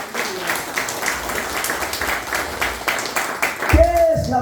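Congregation applause during a church service, steady rhythmic clapping that goes on for several seconds before a voice cuts in at the close.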